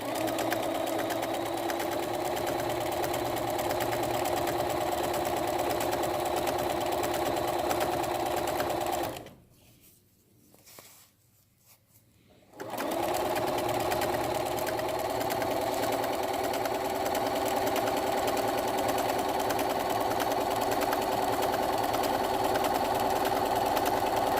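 A Bernina 325 sewing machine stitching stretch binding onto a head sock mask, a fast steady mechanical whir running continuously up close, stopping briefly for a few seconds midway before starting again at the same pace.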